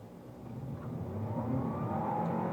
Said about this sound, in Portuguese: Estolando o carro e saindo.